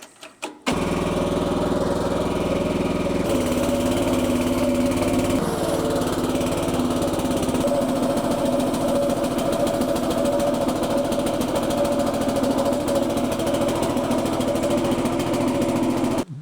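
The engine of a cheap Chinese mini digger runs continuously and loudly close by, with a steady chugging drone that shifts in pitch a few times, and no voices over it.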